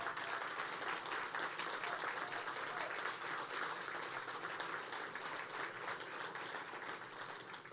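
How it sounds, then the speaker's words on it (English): A sustained round of applause from an audience honoring public safety first responders at a DeKalb County event, dense steady clapping lasting several seconds and tapering slightly at the end, with no speech over it. "let's give all of our public safety, first responders, second responders, a rousing round of applause"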